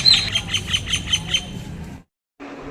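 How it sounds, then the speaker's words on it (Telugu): Birds chirp in a quick, steady series of bright, repeated calls at HaaiLand near Vijayawada, then a brief silence before faint background noise returns. "అందులో బర్డ్ సౌండ్ అయితే వినండి."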